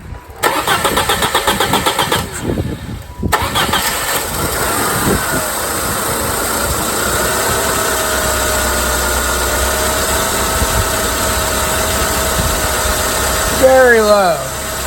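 A Saturn L300 car engine cranks with a few rapid rhythmic turns, catches after a brief pause, and settles into a steady close idle with a faint whine, ending with a short squeal near the end; a person speaks briefly over it.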